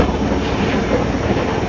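A helicopter hovers over a temple during the Siddhanath yatra fair at Kharsundi, showering flowers. Its steady, loud rotor and engine roar fills the whole stretch without a break, and no voices are heard.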